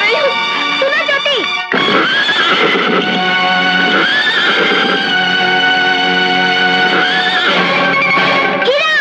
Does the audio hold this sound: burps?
no